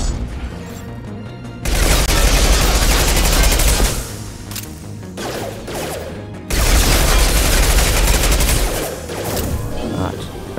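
Heavy machine gun fire from Mass Effect 2 comes in two long, loud sustained bursts, separated by a shorter quieter stretch of scattered shots and impacts.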